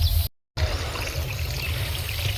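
Borewell water pours steadily into a farm field on an early summer morning, a continuous close splashing gush with a deep low rumble, briefly cut out near the start.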